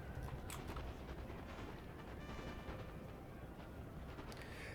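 Heavy artillery fire from a strategy game battle, a dense, loud stream of booming blasts and rumbling impacts with several sharper cracks, steady throughout with no voice.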